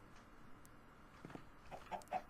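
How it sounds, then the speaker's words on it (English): Chickens in a Minecraft-style video game, a few soft clucks toward the end over a faint, quiet background, sparse and low in level. "Come on, chickens."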